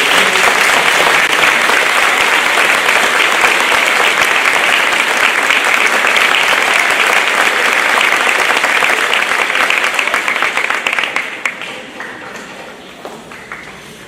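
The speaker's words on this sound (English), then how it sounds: "Please give Sania a round of applause." A round of applause for an award-winning student at a 5th grade academic awards ceremony, loud sustained clapping from a large audience that holds steady for about ten seconds, then thins out and fades into scattered claps.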